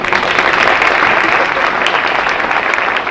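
Steady applause from an audience at a school winter band concert, a dense continuous patter of many hands clapping throughout, fairly loud and close, with no talking over it.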